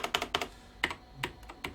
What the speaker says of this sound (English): just realised the O key does not work on this keyboard.